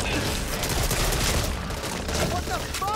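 Rapid gunfire from the Back 4 Blood video game sounds as a dense, continuous burst at close range. Game voices talk over the shooting.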